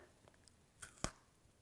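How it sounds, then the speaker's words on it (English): Biting into a chocolate-covered peppermint Oreo gives two crisp, close-up crunches, the second one sharper, in an otherwise quiet room. "I think you heard the snap of the chocolate."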